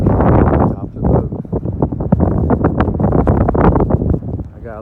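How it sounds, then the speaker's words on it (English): Wind roars on top of a boat, heavy gusty buffeting that rises and dips in loud, uneven surges close to the microphone, with no clear voices. "I can hear the wind whistling."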